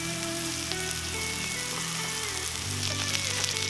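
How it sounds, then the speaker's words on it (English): Butter melts on a hot Cuisinart 360 griddle with a steady, close crackling sizzle that holds evenly throughout, with no talking. "Got some butter. I'm just going to set on the side over here and let it melt for a minute."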